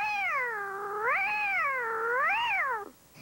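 A man imitates a cat meowing on stage, one long drawn-out wavering meow that rises and falls twice before cutting off, loud and close with no other sound.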